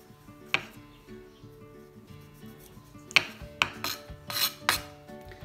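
A knife scrapes and cuts the white pith from a lemon on a board while making lemonade, soft scattered rasping strokes and a few sharper clicks, close and quiet, with no talking.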